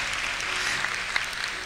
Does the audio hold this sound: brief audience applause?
yes